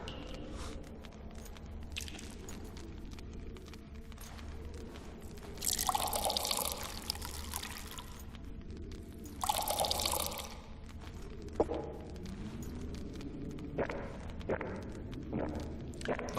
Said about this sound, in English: Nice trick to cover up that they don't have an animation for the pouring of a drink